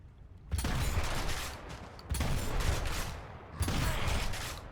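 Three heavy, sustained bursts of gunfire-like noise, each roughly a second long with brief gaps, loud and close: a concentrated shot fired in a multiplayer video game on PS5 or Xbox.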